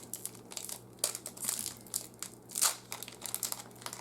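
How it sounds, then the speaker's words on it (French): A Pokemon Chilling Reign booster pack being torn open, close foil crinkling and crumpling in bursts with sharper tearing rustles, fairly quiet with no speech. "Brandon, il va ouvrir un Chilling Ring."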